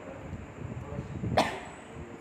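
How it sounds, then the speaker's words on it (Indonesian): A single short cough breaks through midway, fairly faint against a low background hum. "batuk"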